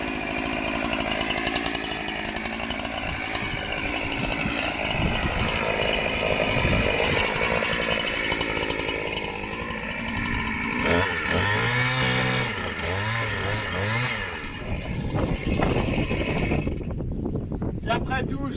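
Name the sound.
chainsaw cutting wood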